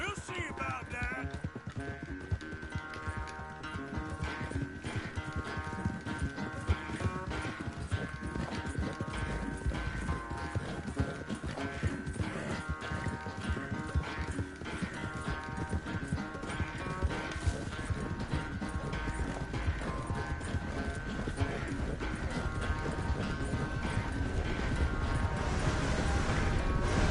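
Rhythmic hoofbeats of a galloping horse in Red Dead Redemption 2 pound steadily under a loud, continuous orchestral music score, building in intensity toward the end.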